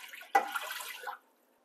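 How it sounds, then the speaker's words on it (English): Canned coconut milk and condensed milk poured into a pan of melted butter for ube jam, a brief close liquid splash and glug lasting under a second, then silence. "now I'm gonna add my cans of coconut milk and condensed milk"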